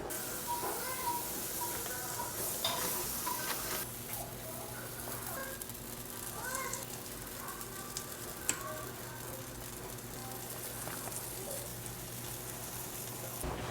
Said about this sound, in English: so I'll go ahead and add some butter to that and we'll start cooking these.